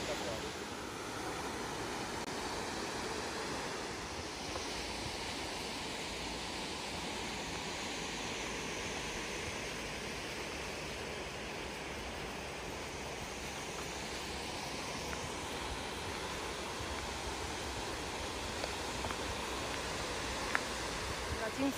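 Steady, broad rushing roar of falling water, constant and unbroken, with a faint voice now and then beneath it.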